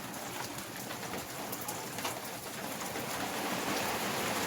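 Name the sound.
heavy rain at night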